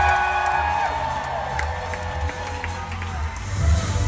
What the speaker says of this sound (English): a big round of applause for our team members all the way from the United States of America